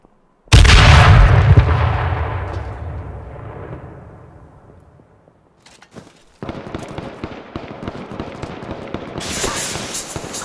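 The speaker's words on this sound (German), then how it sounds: "Ah, Schüsse auf mich." Gunfire in the video game H1Z1: a loud blast at the start decays slowly into a long rumble, then a fresh burst of rapid crackling shots follows and continues to the end.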